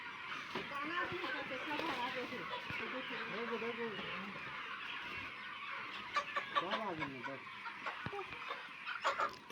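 Hens and roosters cluck in a poultry enclosure, a busy flock layering soft, repeated calls throughout, with people talking nearby.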